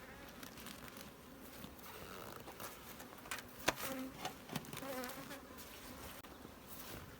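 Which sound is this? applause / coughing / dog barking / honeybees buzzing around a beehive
honeybees buzzing around a beehive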